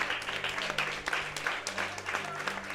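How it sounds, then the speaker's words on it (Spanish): A church congregation gives a round of applause during a service, dense overlapping clapping with a few sharper individual claps standing out, moderately loud and continuous from start to finish. "Yo quiero darle al Señor un aplauso por la vida de ellos."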